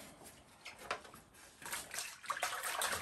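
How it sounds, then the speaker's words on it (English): Cloth being rinsed in water during cleaning on a restoration of a 1993 Numatic Henry HVR 200 vacuum, soft sloshing and dripping splashes in irregular bursts, quiet and close. "Make sure the cloth's well rinsed out"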